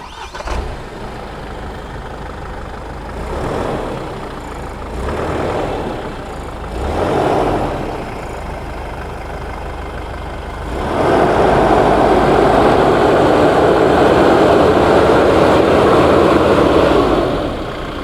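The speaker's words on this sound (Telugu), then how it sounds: "ఇప్పుడు ఈ ఫోర్స్ గూర్ఖా ఎగ్జాస్ట్ నోట్ వినిపిస్తాను మీకు" A Force Gurkha diesel SUV with 25,000 km on it rumbles at idle through its exhaust, with three brief revs and then a sustained higher-rpm hold, loud and close.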